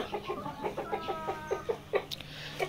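Fayoumi laying hens cluck in a repeating run of short, throaty notes, close by and moderately loud. One or two sharper calls rise near the end over a low farm background.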